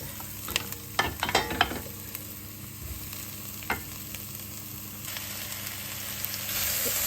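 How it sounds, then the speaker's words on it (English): Pumpkin and carrots fry over reduced heat in a soup pot, a soft steady sizzle with a cluster of scraping stirs early on and another brief scrape later, close by. "now I'm just going to add the pumpkin and carrots"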